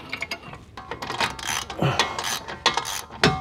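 Brake caliper on a Holden Cruze being turned and fitted back over the disc, giving a burst of close metallic clicks, scrapes and knocks of varying loudness.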